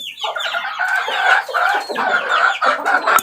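A hungry chick peeps and cheeps loudly and repeatedly while being fed a mix of banana and rice, with its high chirps coming in quick bursts close to the listener.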